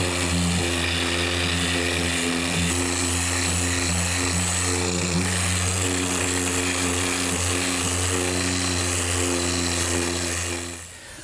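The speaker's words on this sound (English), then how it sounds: "I'm just going to use my random orbit sander" A random orbit sander works across a wood panel for a Shaker woodbox, a steady, loud whirring drone with a low motor hum that runs unbroken and then tapers off at the end.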